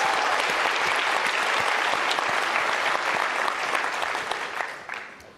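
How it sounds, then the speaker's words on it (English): Steady crowd applause fills an auditorium at an innovation challenge award ceremony, honoring five finalists; dense, even clapping that holds level and then thins out toward the end. "One more round of applause for these amazing 5 finalists."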